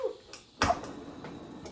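A few sharp isolated clicks from a camping stove's automatic ignition, one louder than the rest, spaced irregularly in a quiet setting.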